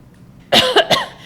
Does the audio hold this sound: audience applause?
no